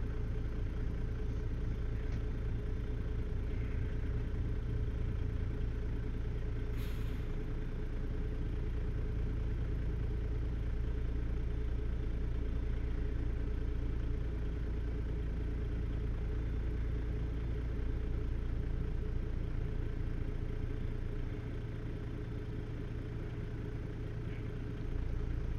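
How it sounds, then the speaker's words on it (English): A low, steady Detroit diesel engine in a Freightliner FLD 120 truck idles in American Truck Simulator with a constant rumble and hum, unchanging throughout, with no talking. "The Detroit diesel is a little loud."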